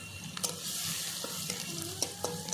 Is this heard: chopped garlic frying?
yes